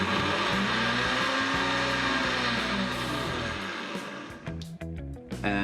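A Homgeek 2000 W smoothie blender runs at full power with a loud, steady motor roar and whine, then its pitch drops and wavers as it winds down near the end.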